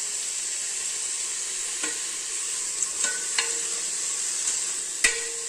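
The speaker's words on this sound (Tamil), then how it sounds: "போட்டு நல்லா வதக்கிக்கலாங்க" Vegetables with turmeric sautéing in a hot pan for wheat rava kitchidi, a steady sizzling hiss broken by a few light taps and scrapes of a stirring spoon.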